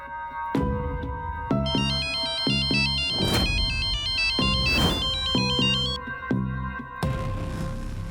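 A mobile phone ringtone plays a looping electronic melody of bright chiming notes in repeated phrases, loud and close, with no talking over it.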